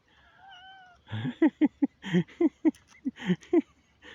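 Cat meowing repeatedly up close, a rapid string of short, strained, wailing cries after a faint high whine at the start.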